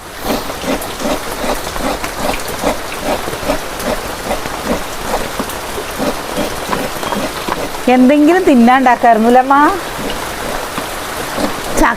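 Steady rain hisses and patters outdoors around a house, a constant wash of sound while people talk over it.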